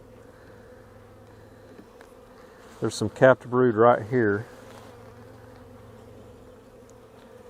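Honeybees in a spring brood box, subdued by smoke, give a low steady hum throughout while someone talks briefly partway through.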